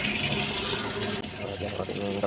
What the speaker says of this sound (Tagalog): So magkakarga muna tayo ngayon ng tubig dito sa balon.